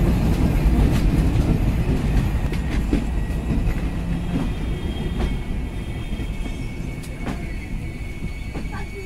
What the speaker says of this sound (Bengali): বিকেল 5:19 আমাদের ট্রেন ছেড়ে গেল চুয়াডাঙ্গা রেলওয়ে স্টেশন থেকে।